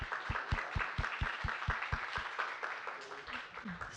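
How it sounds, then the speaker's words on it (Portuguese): A small group claps for a presenter at a science-concepts class: a run of distinct, evenly spaced claps gives way to faint scattered clapping, with a voice speaking near the end. "Palmas para o Flávio."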